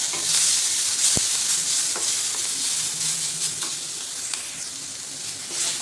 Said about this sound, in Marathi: तर भाज्या अशा फुल फ्लेमवरती परतून घ्यायचं, म्हणजे छान स्मोकी फ्लेवर येतो.